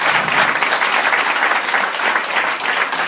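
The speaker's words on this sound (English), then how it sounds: "You should clap." Audience applause fills a hall at a roast event, a dense, loud, steady wash of many hands clapping with no one speaking over it.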